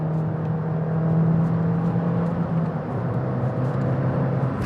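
A Fiat Abarth, small and heavily boosted, pulling on throttle with a steady, moderately loud engine drone from inside the cabin that holds fairly even pitch with mild swells and no talking.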